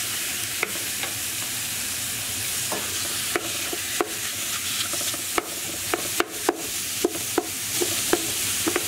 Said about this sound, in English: Once your onions have browned, we're going to add in our beef straight in.